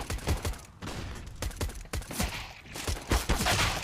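Rapid bursts of gunfire crack through a Counter-Strike: Global Offensive match, repeated sharp shots in quick volleys at moderate loudness with no talk over them.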